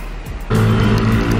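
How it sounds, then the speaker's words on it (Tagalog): Cars and motorcycles speed past on a road in Antipolo. After a quiet start, a loud, close, steady roar of engines and tires suddenly takes over and fills the rest of the moment. "Nabibilis din ng mga sasakyan dito ng mga motor."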